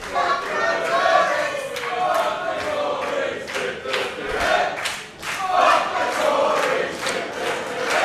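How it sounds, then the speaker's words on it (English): Pro wrestling crowd chanting at an ATTACK! Pro Wrestling event, a loud dense mass of voices rising and falling in rhythmic waves, with no clear words. "And I can't quite make out what the crowd's saying, Sean, but I don't think it bodes well for C"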